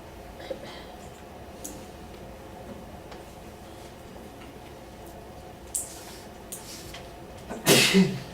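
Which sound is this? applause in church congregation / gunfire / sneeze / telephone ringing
sneeze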